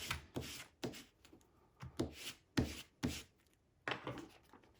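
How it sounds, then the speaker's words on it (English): A bone folder rubbing and scraping over paper in repeated short strokes, about nine dry rasping passes with brief pauses between, close and fairly quiet, no voices. "You could even take your bone folder and scrape it too, like this."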